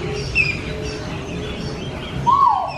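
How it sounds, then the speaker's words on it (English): Two brief bird chirps ring out from a tree, one early and one near the end, over a low steady background hum. "A lot of birds in here."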